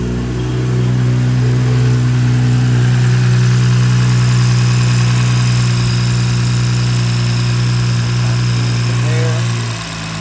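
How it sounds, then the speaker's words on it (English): A BMW B58 engine starts up and settles into a steady, loud idle just after a new high-pressure fuel pump was fitted, the even drone holding for about ten seconds before easing off at the end. "I'm gonna put the terminal back on and start the car."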